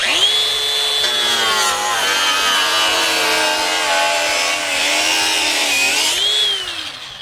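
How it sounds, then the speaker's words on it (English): A small hand tool with a carbide blade saws through a thick sansevieria leaf, giving a loud, close, continuous rasping scrape with rising and falling pitch over several seconds. "this right here is just a little tool that has this carbide blade on here that can cut through all kinds of stuff"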